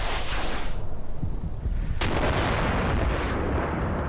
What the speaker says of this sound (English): Is this our artillery or their artillery?